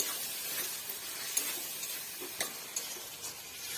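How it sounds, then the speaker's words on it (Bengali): Soy sauce and tomato sauce being stirred in a pan, a soft, faint sizzle with scattered light ticks and scrapes from the stirring, close up and quiet with no talking. "এবার একটু নাড়াচাড়া করে নেব"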